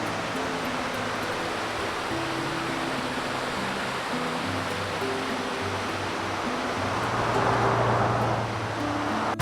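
Broad, steady rush of a flowing creek in the Great Smoky Mountains, heard at a roadside pull-off, with a low engine-like hum underneath and the water swelling slightly louder near the end.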